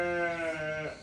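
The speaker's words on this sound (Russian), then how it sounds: "Бараны что-то мычат там." A ram bleats once, a drawn-out, wavering call of about a second, fairly close and alone, heard outdoors near a kazan where Uzbek soup is being cooked.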